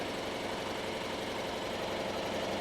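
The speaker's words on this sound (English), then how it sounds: "That's my mini compressor." A small shop air compressor runs in a workshop, a steady droning motor hum with a fast pulsing rattle, close and loud, unchanging for the whole stretch with no voices.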